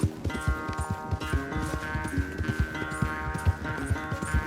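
A horse gallops during a race in Red Dead Redemption 2, with rapid, rhythmic hoofbeats thudding close and loud under sustained background tones, with no talk.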